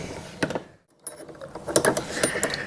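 Close mechanical clicking and rattling as screws are worked out of a Honda Goldwing wheel cover, with a brief quiet gap, then a busier run of small metallic ticks and scrapes.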